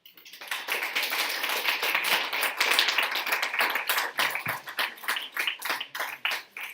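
An audience applauds at the close of a talk on prison law, dense clapping that fades into scattered, thinning claps toward the end.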